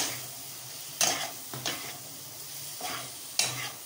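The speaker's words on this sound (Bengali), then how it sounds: "এবার আমি নিংড়ে নেওয়া সয়াবিনগুলো এর মধ্যে দিয়ে ভালো করে কষতে শুরু করব।" Squeezed, salted soybean chunks stir-fried in a hot pan, a steady sizzle broken by several scraping stirs of the spatula at irregular intervals, close and fairly quiet with no talking.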